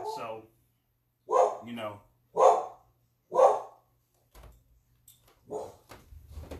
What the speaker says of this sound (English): That's my doggy barking in the background.